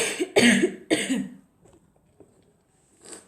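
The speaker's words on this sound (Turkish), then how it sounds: "Öksürük tuttu ya." Three sharp, close coughs in quick succession, followed by quieter breathing and a soft throat noise at the end.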